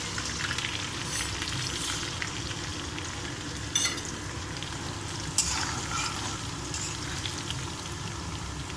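Green chillies, curry leaves and urad dal sizzle steadily in hot oil for a besan curry, a dense continuous crackle close by with a couple of sharper pops, and no talking.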